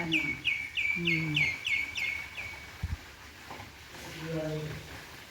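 A bird chirps repeatedly in a quick series of bright notes in a small garden while people talk nearby outdoors.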